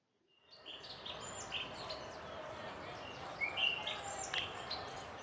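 Birds chirp and call in scattered short bursts over a steady outdoor wash at a Galapagos fish market, faint and somewhat distant.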